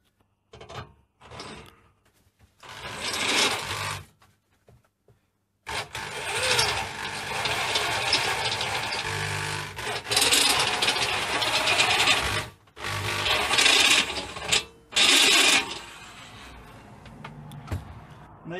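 An electric drill boring holes for an intercooler on a Land Rover Discovery 300Tdi, close whirring runs of varying length broken by pauses, the longest stretch lasting several seconds, with the motor pitch shifting under load.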